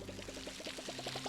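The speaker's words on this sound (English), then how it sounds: "Let's water our trees that we're growing." Water pours onto growing trees in the video game Palia, a quiet, brief gurgling splash of rapid little bursts.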